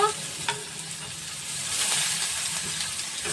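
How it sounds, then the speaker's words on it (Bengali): Hyacinth beans frying with turmeric and salt in a pan, giving a loud, close hissing sizzle with scraping stirs at the start and a swelling burst of steam midway, no voices. "ভালো করে একটু ভেজে নিতে হবে।"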